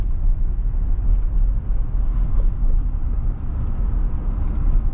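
Road traffic in a jam heard from inside a vehicle: a steady low rumble of idling engines and tyre noise, continuous and fairly loud throughout, with no talk.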